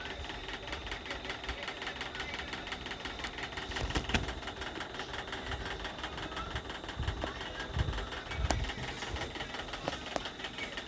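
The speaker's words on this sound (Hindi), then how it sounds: "1/2 इंच मार्जिन रखते मैं शोल्डर सिलाई कर रही हूँ।" A sewing machine stitches a blouse shoulder seam with a steady, fast mechanical hum and a rapid rhythmic clatter. It runs continuously at a moderate level throughout, with no talking.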